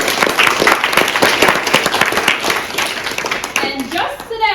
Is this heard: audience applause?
yes